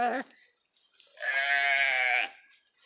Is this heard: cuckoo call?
no